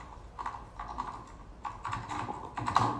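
Rapid clicking keystrokes on a computer keyboard while writing a C program in VS Code, arriving in quick irregular bursts with short pauses, close and moderately loud with no speech.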